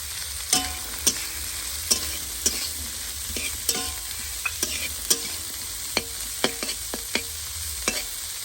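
Broccoli and beans stir-frying in a pan with vegetables for mixed fried rice, a steady sizzle broken by repeated sharp clacks of a spatula against the pan, close and fairly loud with no talking.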